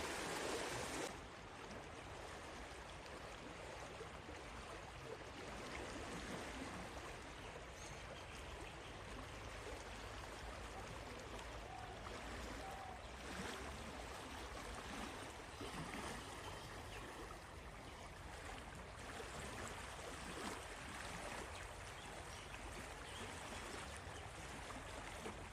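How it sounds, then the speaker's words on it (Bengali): Stream water rushes steadily and continuously through a peaceful jungle setting in Dooars, a broad close wash of flowing water with no voices, holding an even level throughout. "নদীর জলের মিষ্টি শব্দ আর পুরো শান্ত পরিবেশ"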